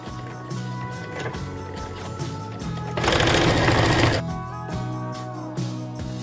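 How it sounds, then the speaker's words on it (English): A sewing machine stitches fabric for a drawstring bag in rapid mechanical bursts, with a louder, faster run in the middle before it slows into shorter stitching passes. "and I will start sewing"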